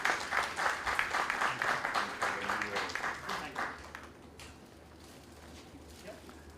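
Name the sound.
audience applause welcoming quiz master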